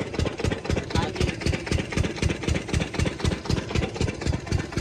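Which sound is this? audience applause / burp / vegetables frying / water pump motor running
water pump motor running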